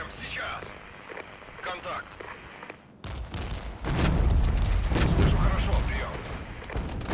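Rocket artillery in the wartime strategy game Regiments fires in a rolling barrage of booms and crackling blasts, loud and dense, growing heavier in the second half.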